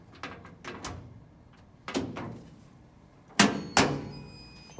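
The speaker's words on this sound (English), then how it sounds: "Put the door back on the pedestals." A washing machine door being set back onto its pedestals, giving several thuds and clunks spread through the clip, with two sharper, louder knocks near the end.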